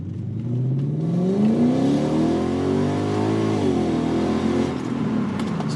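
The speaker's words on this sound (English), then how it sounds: "We're just gonna roll in and then hear the 1-2 shift here." An Infiniti Q45 at a track revs loudly and steadily in first gear, its engine note climbing, then drops in pitch as it shifts into second, continuing close and strong with no talking.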